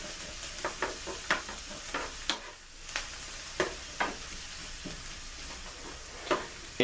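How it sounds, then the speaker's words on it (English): Peppers sautéing for a breakfast wrap give a steady broadband sizzle in a pan, broken by frequent sharp scrapes and taps of stirring. Nobody speaks. "We don't want to saute them too long, just for about 2 minutes."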